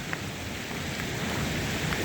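A creek flows around a campsite on the Appalachian Trail, giving a steady, continuous rush of water that holds even throughout with no voices.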